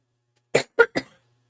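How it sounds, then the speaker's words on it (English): Three quick, fairly loud coughs in close succession from a streamer during a relaxed tarot-reading livestream, followed by silence. "you'll have to excuse me coughing"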